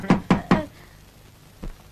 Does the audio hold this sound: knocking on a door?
yes